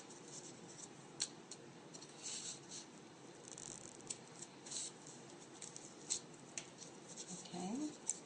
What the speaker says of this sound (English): and then we'll cut the short line.